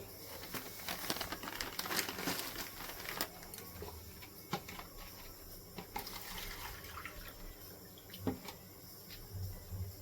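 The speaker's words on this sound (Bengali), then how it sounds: "জল দিয়ে দিচ্ছি 1 বাটি। দেড় বাটি জল দিয়ে দিলাম।" Water is poured into a semolina and rice flour batter as a faint, steady trickle, with scattered small clicks and knocks from the bowl.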